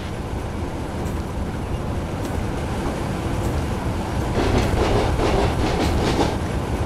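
A train runs along the track in Train Simulator 2016, a steady rumble and rattle of rail cars that grows somewhat louder and busier toward the end, with no voices.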